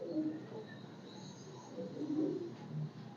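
Pigeons cooing in soft, low, repeated throaty bursts, with a second swell of coos near the end over a faint background hum.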